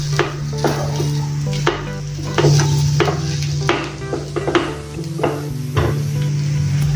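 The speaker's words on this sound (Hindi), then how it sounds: "गरम मसाला डालेंगे, अच्छे से मिक्स कर लेंगे।" A spoon stirs samosa filling with garam masala in a hot pan, giving repeated scraping strokes in a steady rhythm over a constant close sizzle, with no talking.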